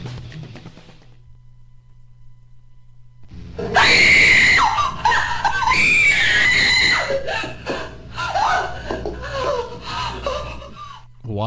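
A woman lets out a loud, sustained scream that rises and warbles for several seconds after a brief quiet stretch, over a low steady hum.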